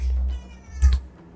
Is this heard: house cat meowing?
yes